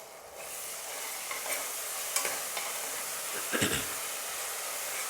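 Ginger garlic paste frying with onions in a pan, a steady hissing sizzle throughout, broken by a few sharp clinks and scrapes of a stirring spoon, close and moderately loud with no talk.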